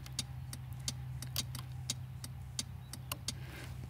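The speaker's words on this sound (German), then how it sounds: "ihr hört schon, die Blinker haben so ein Signal" Steady, evenly spaced clicks of a SYM ADX 125 scooter's turn signal ticking over a low idling engine hum.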